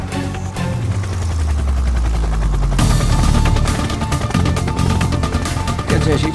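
Loud, steady helicopter rotor and engine roar at close range, with a low descending engine tone early on and rapid percussive beats throughout, like gunfire or blade chop, continuing the whole time.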